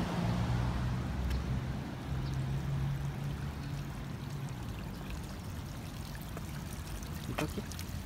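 Hot spring water at a Jozankei onsen pours and splashes steadily in a low, rushing stream, with faint background noise and no clear talking.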